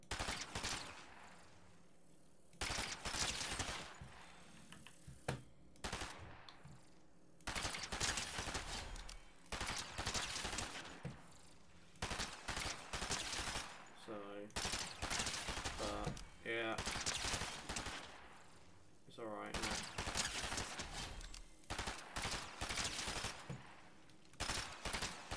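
Repeated bursts of gunfire in a video game, loud clustered shots separated by short pauses, with occasional ricochet-like pings and someone talking in between.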